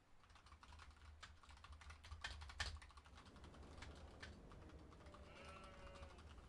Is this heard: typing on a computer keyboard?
yes